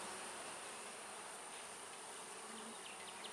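Honeybees buzz around a hive in a dense, steady drone of many insects close by, with no talk.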